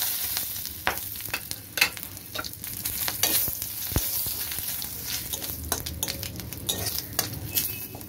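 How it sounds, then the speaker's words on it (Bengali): Whole spices and cumin sizzling in oil left from frying fish, a steady crackling sizzle broken by sharp metal clinks and scrapes of a utensil against the pan, close by and with no talking. "আমি মাছ ভাজা তেলেই সব কটা ফোড়ন আমি দিয়ে দিচ্ছি।"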